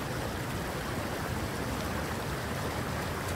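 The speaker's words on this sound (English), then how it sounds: "It leads you into here where there's an indoor waterfall" An indoor waterfall inside a cave in a survival video game gives a steady, dense rush of falling water, continuous and fairly loud with no break and no voices.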